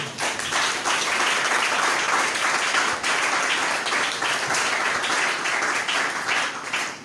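A church congregation breaks into sustained applause after a Bible reading, a dense, steady wash of many hands clapping that carries evenly for several seconds before tapering slightly at the end.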